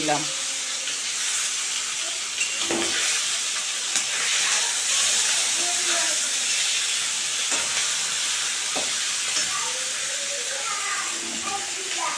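Tomato slices dropped into a pan of frying fish for a spicy Bengali fish curry, giving a steady loud sizzling hiss with a few sharper crackles throughout.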